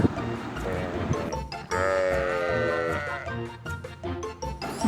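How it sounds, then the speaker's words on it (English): Sheep bleating in a short wavering call, fairly loud and close, with a bright sustained tone in the middle and scattered noise around it. "sheep"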